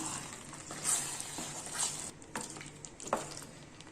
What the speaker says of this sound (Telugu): ఈ చికెన్ మసాలా వేసి ఒకసారి బాగా కలిపి ఇంకా స్టవ్ ఆఫ్ చేసేద్దాం